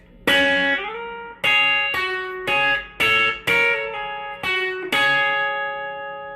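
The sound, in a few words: electric guitar lick, bar on top two strings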